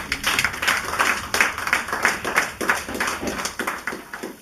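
A church congregation claps and applauds in a steady, rhythmic burst of hand claps after a scripture reading, loud and fairly close, continuing for several seconds without speech.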